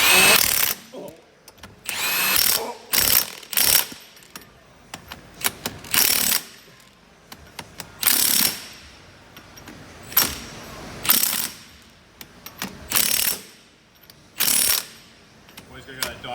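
Bolts on a Nissan R34 Skyline being tightened in a diagonal cross pattern, heard as repeated sharp ratcheting or impact-tool bursts with short pauses between them, close and fairly loud, with no talk.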